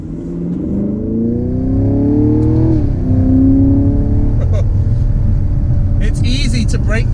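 A 2020 Chevy Camaro SS with its 6.2L V8 pulls hard onto a highway, a loud, close engine note climbing steadily in pitch through a gear change before settling into a sustained roar.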